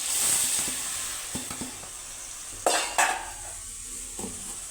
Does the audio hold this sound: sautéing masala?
yes